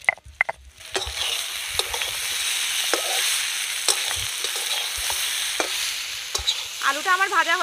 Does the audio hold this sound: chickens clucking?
no